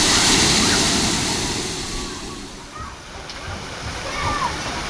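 Water from a kids' sprinkler feature at an outdoor aquatic center splashes and sloshes in a steady broad rush, loudest at the start, easing midway and building again, with people talking in the background.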